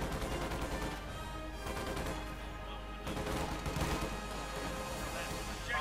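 Dense, continuous battle noise from a Company of Heroes 2 match, gunfire and explosions blended into a steady roar without clearly separated shots.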